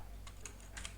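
A few quick keystrokes on a computer keyboard, typing a short command in a Linux shell, as soft close clicks in a brief burst over quiet room hiss.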